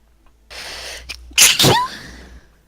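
A single loud sneeze bursts out close by after a short breathy intake, followed by a brief trailing exhale; no talking.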